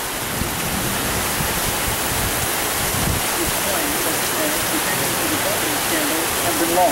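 Heavy rain pours outside a house in a dense, steady hiss that stays loud and unbroken throughout, with no talk over it.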